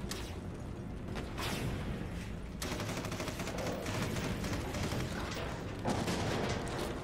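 Sustained rapid gunfire from Solstice Chronicles: MIA, dense bursts of shots rattling continuously with a few sharper cracks, fairly loud throughout and nearly free of talk.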